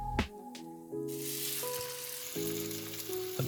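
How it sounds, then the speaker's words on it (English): Burger patties hit a hot pan after a couple of sharp knocks, then a loud, steady sizzle fills the space and holds close and constant with faint background hum. "Now it's time to get the burgers on."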